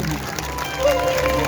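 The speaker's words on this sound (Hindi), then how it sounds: "जोरदार तालियां बजे" Applause from an audience at a Hindu kirtan during Ganesh festival celebrations, a steady wash of many hands clapping, loud and continuous, with a voice speaking over it.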